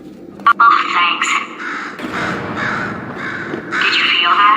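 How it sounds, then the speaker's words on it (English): A bird cawing in Portal 2, loud repeated raspy caws close by, with a sharp clack near the start and a steady synthetic voice talking throughout. "Could you, murder this bird for me?"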